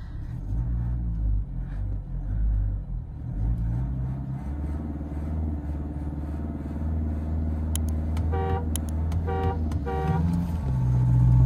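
A drag race start between a Mahindra Scorpio S11 and a Scorpio N, with engines rumbling and revving close by and a few sharp horn toots near the end as the vehicles pull away.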